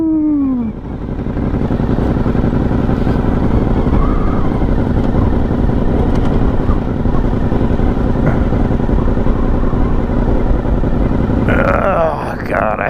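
Honda VFR motorcycle ride with steady, loud engine and wind roar running throughout, engine pitch holding fairly constant, ending in a brief change near the close.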